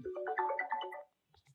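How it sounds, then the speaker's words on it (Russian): Mobile phone ringing with an incoming call: a short, loud melodic ringtone phrase lasting about a second, followed by a few faint clicks and near silence. "О, Господи, мама звонит."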